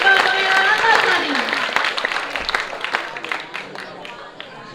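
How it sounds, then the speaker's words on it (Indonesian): Audience applause at a school performance event, dense clapping with crowd noise under an announcer's voice, gradually thinning out over several seconds. "Beri tepuk tangan yang meriah sekali lagi untuk Pangeran Kapal Pangeran Antasari."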